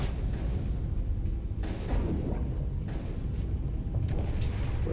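Gunfire erupts in the video game Mass Effect as a dense, continuous stream of rapid shots and booms, loud and close, with heavier bursts punctuating the steady barrage.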